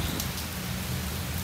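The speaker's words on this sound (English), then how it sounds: "raining again." Steady rain pouring onto surfaces at a campsite in Thailand, a dense continuous hiss of drops, close and fairly loud, with no voices.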